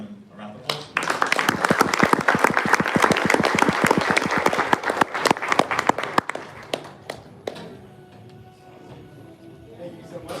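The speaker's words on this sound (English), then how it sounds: "please join me in giving them a round of applause." An audience gives a panel a round of applause: dense clapping swells quickly, holds for several seconds, then thins out into scattered claps before fading under a voice.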